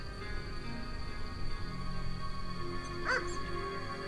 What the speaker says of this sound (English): That's just a rabid dog.